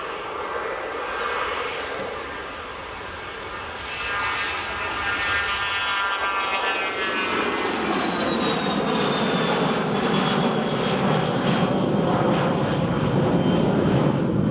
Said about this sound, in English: here goes the NetJets